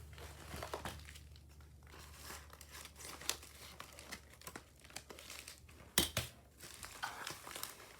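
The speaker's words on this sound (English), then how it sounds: "I'm going to need my scissors to open this one up." Scissors and hands open a mailed parcel, with steady plastic and paper packaging crinkling, rustling and occasional tearing, close and fairly quiet, with one sharp snip or crunch partway through and no talking.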